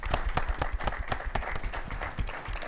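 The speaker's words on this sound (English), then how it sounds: "please give a warm round of applause for all of our panelists today" A seated audience applauds the panelists at an American environmental policy discussion, steady, dense clapping from a moderate-sized room that holds at an even level throughout with little else beneath it.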